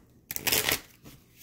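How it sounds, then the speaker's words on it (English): Rider-Waite tarot cards being shuffled close by, one quick riffle of crisp flicking paper lasting about half a second, with no voices. "Right now I'm shuffling my Rider-Waite."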